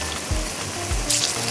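Spring rolls deep-fry in hot oil with a soft, steady sizzle and crackle, and a few low bumps now and then. The sound is fairly quiet and heard alone.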